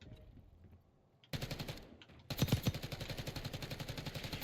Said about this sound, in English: Just spam shooting.